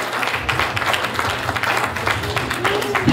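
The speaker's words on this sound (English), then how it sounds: "Let's give him a big round of applause." Crowd applause at a community talent show, continuous dense clapping at moderate loudness with some voices underneath.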